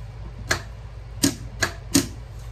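Sewing machine stitching elastic onto a pet item, four short sharp mechanical bursts spaced unevenly, close and fairly loud with quiet pauses between.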